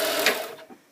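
A serger runs a quick, close burst, stitching seam allowances together into a closed seam finish, then whirs down and stops within a second.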